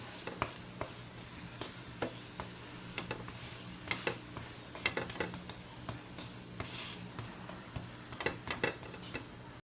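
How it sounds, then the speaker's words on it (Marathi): A cauliflower paratha roasts in oil on a pan, a faint continuous sizzle dotted with soft clicks and taps from turning it, steady throughout with no talk. "थोडस तेल घालायचं आहे सर्व बाजूनी भाजून घ्यायचं असं छान"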